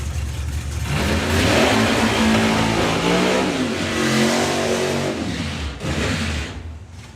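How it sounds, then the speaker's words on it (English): Two Chevrolet Camaro race cars at a festival roar past while revving, the engine note rising to a loud sustained peak then fading, with a second surge following. "The 2 Camaros coming round."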